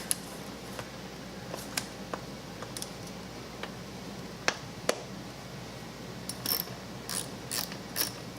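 A wrench undoing a nut on a Kawasaki Z1000 throttle body, with quiet ratcheting clicks and small metallic ticks arriving in irregular bursts close by over low background hiss, no talking.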